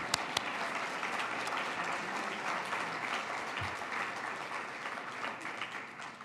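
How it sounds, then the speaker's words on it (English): An audience at a university business plan competition applauds steadily, a dense, even wash of clapping that holds for several seconds with no speech over it. "So let's give Andy another round of applause."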